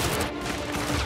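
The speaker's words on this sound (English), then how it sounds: "I got gunfire." Dense, continuous gunfire rattles without a break in the tactical VR shooter Firewall: Zero Hour, loud and close, like a sustained exchange of automatic fire with no voices.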